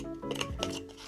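Scissors snip through a scrap of thick cardboard close up during a rubber-stamp case craft project, giving a short dry rasping cut of about a second, with no talking.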